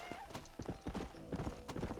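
Hooves clip-clop in a quick galloping rhythm from a horse in the Western video game Red Dead Redemption, with a few whinnies and snorts mixed in, steady and close throughout.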